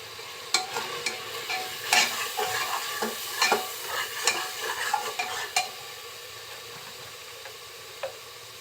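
Spices with cumin, chili powder and salt being stirred and fried in oil for beef curry, a close sizzle under repeated scraping strokes of a spoon across the pan, fading to quieter frying near the end.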